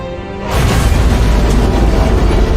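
A loud, sustained boom roars aboard a ship in the Halo video game as an antimatter charge detonates, rising suddenly and rumbling on without pause.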